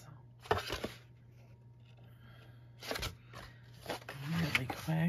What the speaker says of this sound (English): And then I'm going to erase my pencil marks